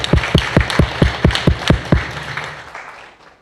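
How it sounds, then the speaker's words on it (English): A room full of people at a World Safety Day event on the NEOM Line project gives a burst of applause, with strong rhythmic claps in unison at first that thin out and fade over about three seconds. "give everyone in this room another round of applause"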